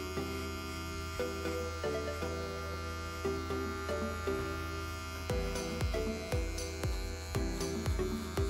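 An electric hair clipper runs during a skin fade haircut, giving a steady low buzzing hum close by, with faint irregular rasping strokes as the blade moves through the hair.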